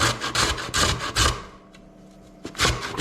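Raw beetroot rubbed against a grater in a kitchen, a run of quick rhythmic rasping strokes up close, then a short pause before the grating resumes.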